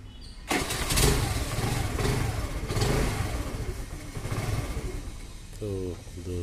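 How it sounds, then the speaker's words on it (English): Honda Activa scooter engine starts after a battery recharge and revs, a close mid-pitched motor running steadily under a brief spoken voice, with a short burst of speech near the end. "So the vehicle is starting properly"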